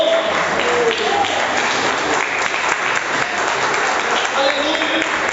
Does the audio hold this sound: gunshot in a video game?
no